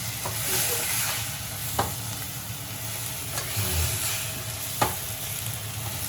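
Moringa drumsticks and potatoes are sautéed in masala in a pan. A continuous, even sizzle plays close up, with occasional light spoon scrapes and clicks and no talking.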